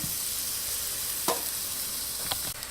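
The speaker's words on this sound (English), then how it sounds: "Alright, my butter is melting." Butter sizzling as it melts in a Ninja cooking system, a steady close hiss of frying broken by a few brief scraping stirs near the end.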